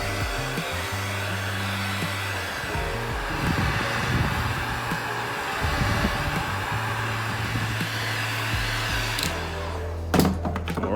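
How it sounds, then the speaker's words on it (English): A heat gun blows hot air onto the sole of a leather horse riding boot during repair. A steady, loud, close whooshing blower drone runs throughout, followed by a couple of brief knocks near the end. "take our heat gun, which I like to pretend is a ray gun"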